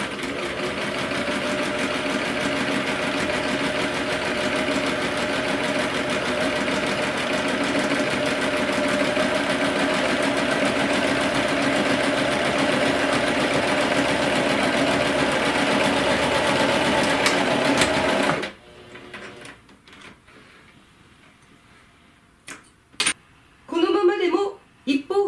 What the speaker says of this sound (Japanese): それでは縫っていきます。